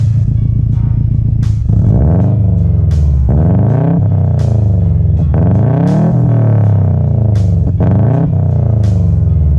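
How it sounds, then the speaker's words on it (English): A loud, steady idling engine drone from a Subaru WRX with a swapped JDM engine, low harmonic hum, periodically swelling and dipping in pitch like gentle throttle changes, with no voices present. "It's idling fine. You can hear it sounds great."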